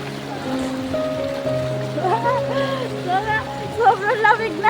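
A river on a countryside farm walk flows as a steady broadband rush beneath people talking close by.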